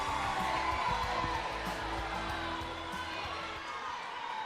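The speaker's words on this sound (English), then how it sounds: "You can feel the excitement and the energy in the crowd" A crowd cheers and whoops in a high school boys basketball tournament gym during overtime. The roar is broad and sustained, steady and fairly distant, with scattered shouts and voices woven through it.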